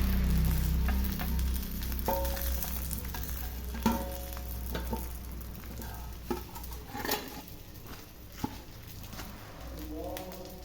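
Fish sizzles and crackles steadily in hot oil for a fish masala, with scattered clinks and scrapes of a utensil and some faint talk in the background.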